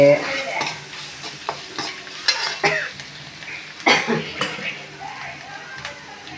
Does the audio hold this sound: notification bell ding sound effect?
no